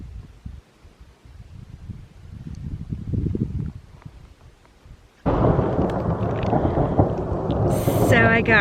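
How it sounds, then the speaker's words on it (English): Distant thunder rumbles low at first, then a loud crack breaks into a sustained roaring peal mixed with falling rain and hail in a summer thunder shower. "There's basically this summer thunder shower that's sort of come up."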